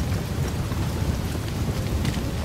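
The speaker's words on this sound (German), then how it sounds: "Ich könnte auf den Regen verzichten." Steady heavy rain in the video game Desperados III, a dense continuous hiss with a low rumbling undertone, loud and unbroken with no voices.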